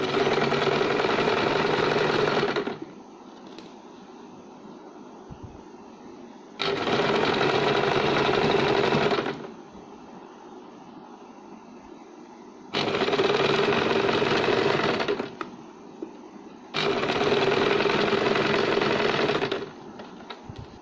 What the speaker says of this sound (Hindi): इसे हम यहाँ से सिलाई लगा के अंदर की ओर इसे फोल्ड कर लेंगे।